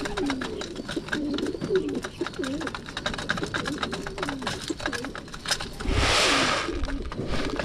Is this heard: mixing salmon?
no